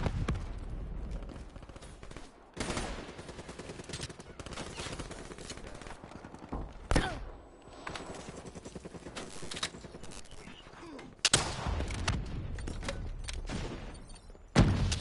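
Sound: gunfire in the Black Ops 3 video game

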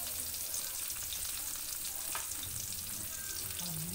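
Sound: eggplant omelette frying in oil

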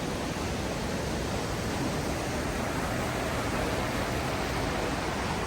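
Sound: waterfall flowing in Johnston Canyon, Banff National Park

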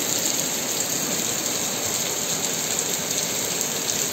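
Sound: heavy rain falling in Madrid

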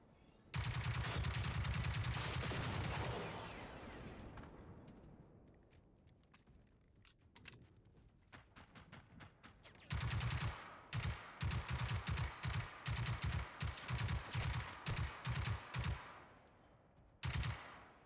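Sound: robots shooting gunfire in video game Generation Zero

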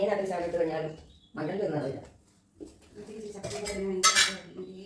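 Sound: stirring jackfruit in a pot

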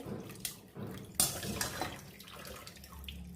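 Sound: water squeezed out of boiled taro greens

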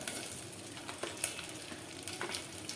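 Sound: curry leaves and green chilies frying in oil

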